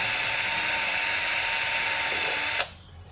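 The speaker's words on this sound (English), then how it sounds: "I got some carburetor cleaner on this green Scotch-Brite, and just run the drill on it." A drill spins a green Scotch-Brite pad with carburetor cleaner on an engine valve of an old single-cylinder Wisconsin engine, whirring at steady high speed with a scratchy abrasive hiss, then stops with a sharp click and winds down.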